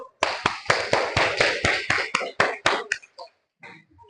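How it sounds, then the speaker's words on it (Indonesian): Classroom applause at a junior high school, a burst of rhythmic group clapping in a steady beat of about a dozen claps, loud and near, ending in a few scattered claps. "kasih tepuk tangan dulu kelompok satu"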